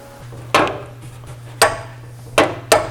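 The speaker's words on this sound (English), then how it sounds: "you can engage the slapper with a hammer like this. It really spreads the load nice." Hammer blows on a body slapper laid against a damaged steel panel of an Austin-Healey 3000, four sharp, loud metallic strikes spaced irregularly, with a steady low hum underneath and no talking.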